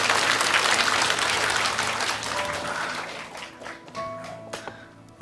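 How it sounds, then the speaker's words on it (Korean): An audience in a church hall applauds after a lecture by a pastor, the clapping dense and sustained at first, then thinning out to a few scattered claps and faint noises by the end. "다시 한번 뜨거운 박수 부탁드립니다"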